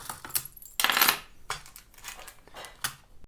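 Metal coins on a necklace with coral beads clink and jangle as it is handled and set on a scale, with several bursts of bright metallic rattling between quieter pauses.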